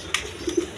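A pair of large-size pigeons at a Bangladeshi farm, giving a couple of soft low coos close by after a brief rustle, quiet and without speech.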